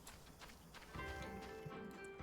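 Horses in a video game clop along with soft, fairly faint hoofbeats, the steps becoming a little denser and louder midway through.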